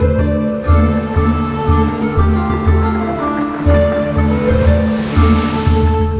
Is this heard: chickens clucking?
no